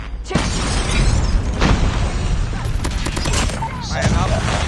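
Loud, dense automatic gunfire and bursts from the Call of Duty Mobile video game, with an MK2 weapon in use, fill the clip continuously alongside other clattering game effects.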